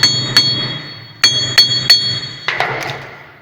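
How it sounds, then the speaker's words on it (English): Sharp metallic hammer taps strike the rear wheel hub of a Ford Transit MK7, about eight ringing blows in uneven pairs and singles, close and clear with brief decays. "All we do now is get a hammer and start tapping this."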